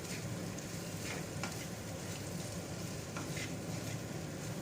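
Flattened rice (poha) being stirred with fried potatoes in a hot pan, a steady sizzling hiss with soft intermittent scraping strokes throughout, no voices.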